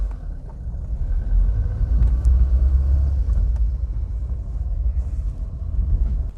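A Vauxhall Viva HC car on the road, its engine and driveline giving a steady low rumble from inside the cabin with a slight lurching surge, no talking.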